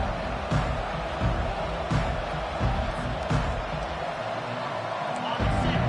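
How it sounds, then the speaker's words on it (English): Stadium crowd at a college football game roars steadily throughout, a dense wash of cheering with periodic swells and thumping accents, while a broadcast voice talks over it. "They challenge this crowd to bring the energy, and I'd say they're doing that."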